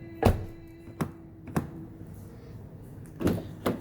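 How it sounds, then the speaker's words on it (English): Short solid thunks from the doors of a 2022 Mitsubishi Outlander SEL SUV being shut, five separate knocks at uneven intervals, close by and fairly quiet, with a light, hollow character. "The doors feel very nice when you close it."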